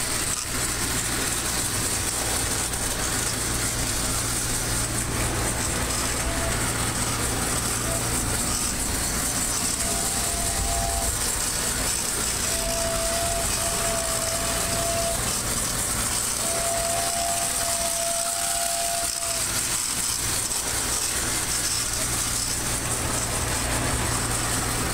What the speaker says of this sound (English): I want to give it a few circuits around the track so that you can see it run